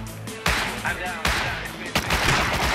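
Repeated heavy gunshot bursts ring out in Rust as fire ammo is shot at an enemy during an online raid, three loud blasts spaced under a second apart with dense echoing tails and chatter mixed in.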